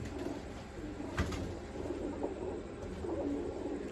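Low, soft cooing of a female pigeon repeating steadily against a faint background hum.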